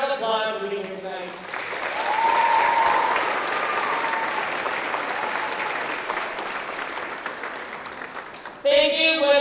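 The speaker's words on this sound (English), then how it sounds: "Let's give everybody a big round of applause for being here tonight." A big round of applause fills an award show hall in the Sacramento area, swelling after a brief voice and holding steady for several seconds before a voice returns at the end.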